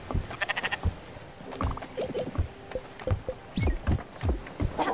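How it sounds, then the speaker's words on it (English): Short sheep bleats from the farm animals in the video game Spiritfarer, several quick cries over light pattering and clicking game sounds, with no talking. "Alright, I got some sheep to feed."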